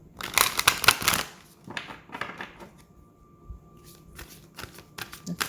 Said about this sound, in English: Let's get a little bit of a shuffle